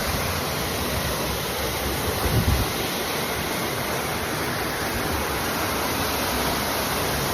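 Small waterfall of clear, shallow water at Bulalakaw Falls, a steady dense rush of splashing water, close and constant with no voices.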